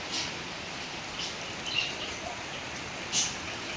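Rain falling steadily outdoors, a soft even hiss of drops with a couple of faint brief chirps or splashes over it, no voices.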